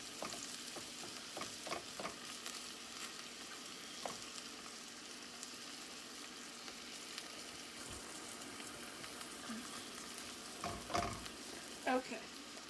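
Bacon fries in a skillet with a soft, continuous sizzle, broken by occasional clinks and scrapes of stirring and a few sharper pops, all fairly quiet and without talk.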